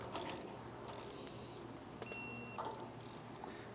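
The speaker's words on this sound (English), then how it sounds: "we're gonna torque this to the manufacturer's specifications, and then we'll back it off." A ratchet wrench clicks close up as a trailer axle hub nut is torqued on a 3,500-lb axle, with quiet repeated pawl clicks and mechanical ticking over a low background hum.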